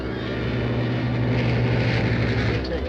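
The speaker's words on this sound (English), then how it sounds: "There's a plane following us." A propeller airplane drones steadily overhead, a continuous low engine hum that stays loud and even throughout.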